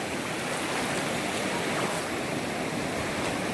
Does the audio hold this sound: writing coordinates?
no